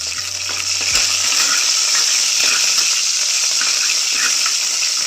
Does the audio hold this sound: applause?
no